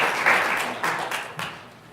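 An audience at a law symposium breaks into brief, moderately loud applause welcoming a professor, fading out over a couple of seconds.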